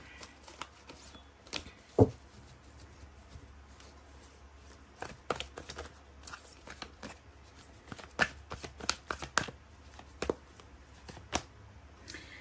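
Tarot cards are shuffled by hand, with several slipping and dropping: close, soft riffles, slaps and clicks come in irregular bursts over a quiet background, with no voices.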